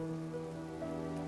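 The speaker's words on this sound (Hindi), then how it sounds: "इतनी तेज बारिश में कौन आएगा, सारा धंधा चौपट हो गया।" Heavy rain falls in a scene from a Hindi-dubbed South Indian film: a steady, dense hiss of downpour over a continuous tonal hum, with no voices.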